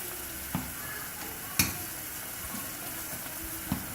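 Chicken kofta mixture is stirred in a sizzling pan, a soft continuous frying hiss broken by a few sharp spoon clicks and scrapes against the metal.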